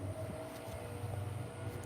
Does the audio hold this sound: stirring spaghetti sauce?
no